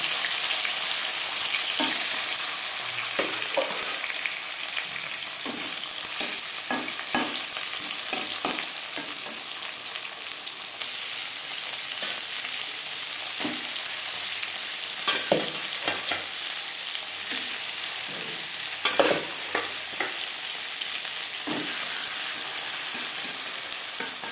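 Marinated pangas fish frying in a little oil, a steady close sizzle with irregular spatters and stirring clicks running throughout, no voices.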